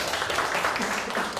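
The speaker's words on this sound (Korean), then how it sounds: "박수 한번 주시죠." Dense, steady applause from an audience, a broad wash of clapping filling the whole moment.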